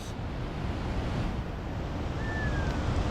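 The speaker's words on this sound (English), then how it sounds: "there's some big waves coming" Big ocean waves break on a rocky shore at sunrise with lots of kelp in the water, making a steady, close wash of surf mixed with wind buffeting the microphone. Nobody speaks.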